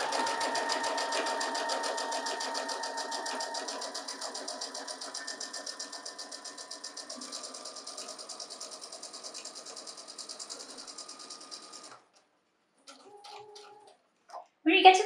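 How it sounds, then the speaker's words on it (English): A sewing machine stitches down the side of a fabric face mask in a fast, even, rhythmic whir for about twelve seconds, then stops, leaving a few faint clicks and handling noises. "And then just sew all the way down the side."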